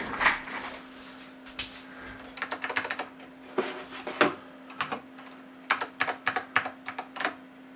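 Keys on a NeXTstation computer keyboard click in quick, uneven bursts with short pauses between them, close and fairly quiet, over a steady low machine hum.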